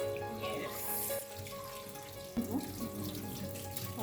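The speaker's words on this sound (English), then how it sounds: "You rinse until the water coming out is clean, right?" Sardines (omena) are rinsed under running tap water in a sink, a steady close splashing with brief sloshes of the fish being stirred.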